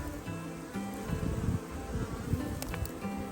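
Honeybees swarm around a hive's top entrance during spring checks, a close, continuous buzzing with wings flickering past nearby and no talk.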